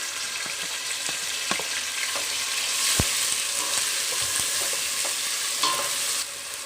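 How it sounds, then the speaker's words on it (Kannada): Onion and tomato fry in oil in a pan for hotel-style kuska biryani rice, giving a steady close sizzle broken by light clinks and scrapes of stirring. "ಈರುಳ್ಳಿ ಟೊಮೆಟೊ ಚೆನ್ನಾಗಿ ಫ್ರೈ ಆಗಬೇಕು ಫ್ರೆಂಡ್ಸ್"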